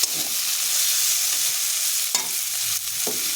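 Sizzling pointed gourd curry sits in a pan as water goes in, with a steady hiss of frying punctuated by a few sharp bursts and stirring scrapes, heard up close with no voices.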